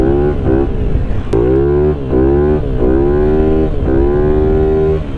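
A Honda 150cc scooter engine runs at a high idle close by: a steady, loud buzzing drone whose pitch dips and rises a few times, with no voices.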